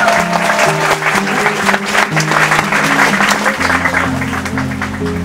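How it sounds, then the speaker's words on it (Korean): Wedding guests at a Korean ceremony applaud loudly and steadily during the father's speech, a full, continuous wash of clapping layered over soft sustained background music. "여러분들의 박수가 필요할 것 같아요."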